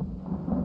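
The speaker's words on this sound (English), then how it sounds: "I'm just letting the forest thunderstorm ambiance settle in" Forest thunderstorm ambience: a low, continuous rumble of thunder with a steady wash of rain, loud and close, with no pauses.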